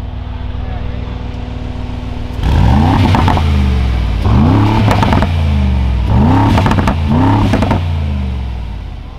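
A custom Brabus G-Wagen engine idles at first, then gets four loud, close revs in a row, each a rising roar that falls back between blips, with a voice speaking faintly.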